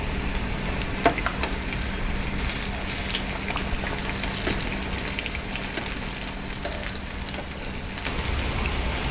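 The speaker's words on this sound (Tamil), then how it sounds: "அப்படியே பொறுமையாக சிம்மில் வச்சுட்டு நம்ம ஃப்ரை பண்ணி எடுத்துக்கலாம்" Potato pizza cutlet frying on a low flame in a pan, giving a steady, close sizzle with crackling spits and bubbling that holds throughout, with no talk.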